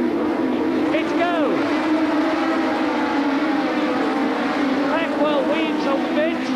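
Formula 2 race cars launch at the start of a 1984 race at Silverstone, high engines rising and sweeping in pitch as they pass, loud and close, over the roar of the field with a commentator talking throughout.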